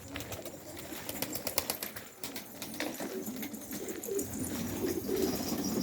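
A flock of pigeons keeps up soft, rolling coos, layered and ongoing at moderate distance over a constant ambient hiss, without anyone speaking.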